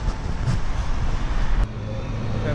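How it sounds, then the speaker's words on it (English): An X2 bus idles in Christchurch, Dorset, its engine a loud, close, steady rumble that runs through the whole stretch. "He's just started his engine up."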